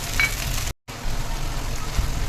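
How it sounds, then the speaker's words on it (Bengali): Small pieces of fish frying lightly in hot oil in a pan, a steady close broadband sizzle with a brief cut of silence partway through. "এবার যে গেরিগুলো আছে এর মধ্যে দিয়ে দিলাম, একটু ভেজে নেবো হালকাভাবে"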